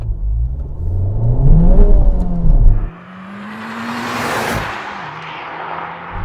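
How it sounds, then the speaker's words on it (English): Honda Civic Type R engine revved to its soft limiter, a loud rising howl that bounces off the limiter, then drops away and settles into a quieter, steady drone. "So let's hear them. First, the Honda. Soft limiter."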